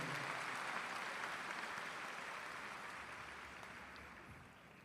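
Audience at a 2018 high school graduation ceremony applauding the graduating seniors, a broad sustained roar of clapping from a large crowd that slowly fades toward the end.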